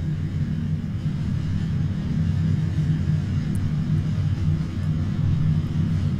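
Rocket engines of a SpaceX Dragon launch to the ISS roar as a steady, loud, low rumble throughout, with no breaks or distinct events.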